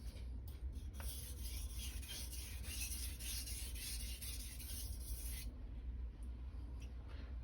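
A Santoku or Nakiri kitchen knife rubbed steadily across a Chosera or Naniwa whetstone, a continuous close scraping rasp with short strokes, fading slightly near the end.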